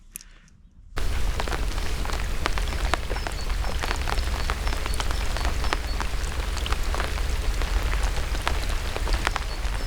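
Heavy rain pouring down at a wild lake, starting abruptly after a second of quiet and then a dense, loud patter of drops hitting the water and nearby surfaces, continuous to the end.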